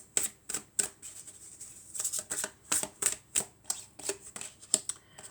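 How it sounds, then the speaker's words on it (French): Tarot cards are shuffled by hand in a quick run of crisp, close riffling flicks and taps, irregular in rhythm and quiet, with no talking. "Alors, on va prendre encore une autre carte."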